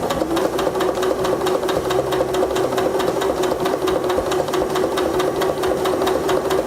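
A Janome Skyline S5 sewing machine runs a twin-needle straight stitch, a fast steady mechanical rattle with rapid even needle strokes, close and continuous throughout.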